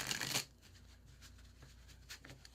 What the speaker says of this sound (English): The reset for me is also 5 shuffles